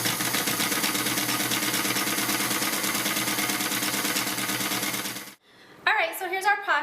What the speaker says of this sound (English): then we'll just keep on stitching